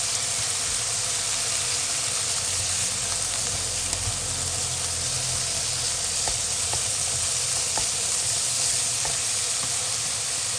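Minced pork fries in a pan with added water, giving a steady loud sizzle and hiss throughout, with occasional faint stirring clicks and no talking.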